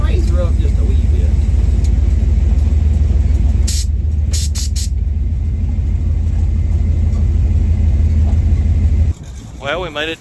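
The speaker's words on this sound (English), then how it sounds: "I hear that muffler" A car's muffler gives a steady, loud, low exhaust rumble while driving, with someone talking over it at the start and near the end.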